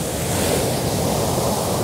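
Ocean waves wash steadily onto the seashore, a continuous broad surf roar with light wind, close and even, with no voices.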